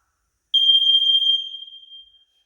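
A household carbon monoxide alarm gives one loud, piercing, high-pitched electronic beep that sustains briefly and then fades out, with silence around it.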